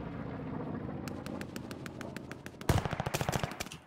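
Rapid automatic gunfire from the Call of Duty Vanguard video game, a steady burst of evenly spaced shots that grows louder and heavier near the end, with no voices over it.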